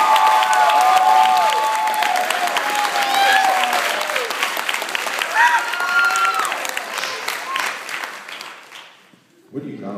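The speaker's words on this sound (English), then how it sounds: "And this nice round of applause is for you, the stars of the show." An audience at a high school graduation hypnotist show breaks into loud, sustained applause with some cheering, tapering off near the end as a voice starts speaking.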